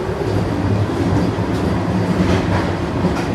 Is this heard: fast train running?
yes